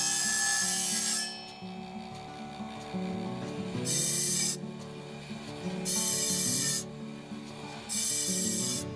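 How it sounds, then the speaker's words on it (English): Diamond sharpener filing the teeth of a table saw blade, a harsh rasping scrape in four separate strokes of about a second each, with a ringing metallic hum in the pauses between them. "I'd like to give my table saw blade a nice sharpening"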